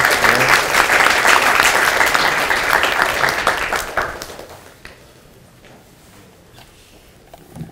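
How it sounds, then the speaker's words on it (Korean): Loud audience applause from a roomful of university students at a meeting, sustained for several seconds before fading away into near silence. "박수 한번 부탁드립니다"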